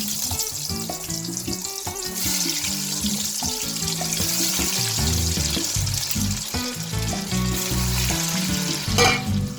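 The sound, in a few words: potatoes frying in hot oil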